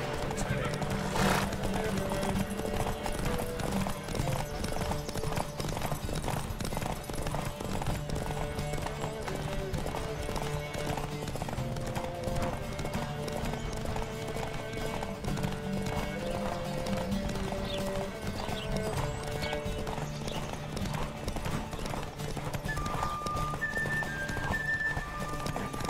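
Rapid hooves of a video game horse pound in a steady galloping rhythm, with occasional horse whinnies over continuous background music.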